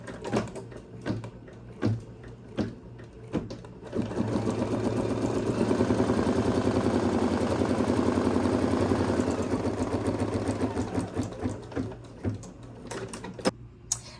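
An embroidery machine stitches a lining placement line for a snack bag, a steady mechanical hum with rapid needle pulses lasting about nine seconds, set between quieter clicks and handling noises.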